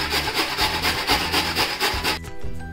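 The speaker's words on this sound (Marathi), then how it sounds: "गाजर आता सोलून घेतले, आता किसून घेऊया।" Peeled carrots for gajar halwa are rubbed against a grater in quick, rhythmic rasping strokes, close and steady, then stop near the end.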